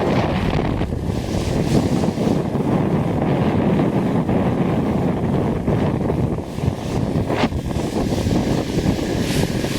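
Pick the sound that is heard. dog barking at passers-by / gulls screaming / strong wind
strong wind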